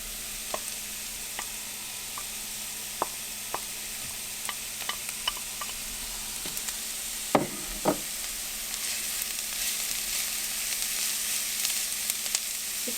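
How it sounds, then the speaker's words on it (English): Shredded carrots frying in a pan for shakshuka, a soft steady sizzle with scattered clicks and scrapes of a utensil stirring, a louder knock midway, close up. "we're going to mix it until carrots will soften up."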